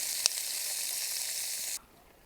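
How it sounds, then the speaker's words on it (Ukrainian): Sweet bell pepper fries over an open fire in an outdoor summer kitchen, hissing in a dense, steady sizzle with one small pop before the sound suddenly cuts away. "Наступне обсмажуємо солодкий перець і за бажанням можна додати трішки гіркого для гостроти."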